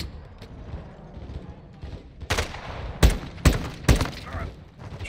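Gunfire in the Call of Duty: Modern Warfare 2 (2022) campaign rings out in several sharp, loud bursts about half a second apart, over a quieter background of game noise.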